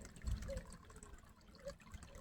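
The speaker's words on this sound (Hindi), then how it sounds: "ये पानी जो है ये फ़िल्टर हो रहा है ऑटोमेटिकली" Garden pond water circulating through an automatic filter, a soft continuous trickle and gurgle with low splashy bumps, fairly quiet and steady, with no voices over it.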